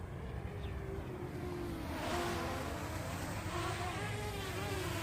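Xinlin X181 Navigator X6 RC plane flying fast outdoors, a thin buzzing motor whine holding steady at moderate distance, swelling slightly louder midway as it passes.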